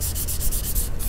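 Rhythmic back-and-forth hand sanding with 400 grit wet sandpaper on a car's door jambs, about six quick strokes in a second, close and steady.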